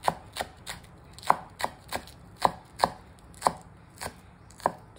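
A knife slices ingredients on a cutting board in a steady run of about a dozen sharp, close chops with an uneven rhythm, alone in a quiet kitchen.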